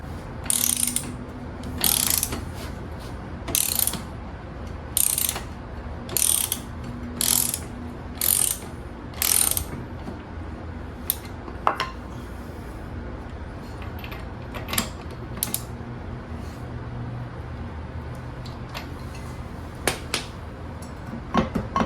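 A ratchet wrench tightens a nut on a Mercury 60 HP four-stroke outboard engine, with a series of close, loud ratcheting bursts at a regular pace followed by sparse clicks and small metallic taps.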